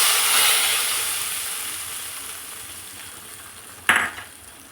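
Tempering with red chili powder sizzles in a pan over a switched-off flame while making kadhi pakoda. A loud, hissing sizzle fades steadily, and a short clink of a utensil sounds near the end.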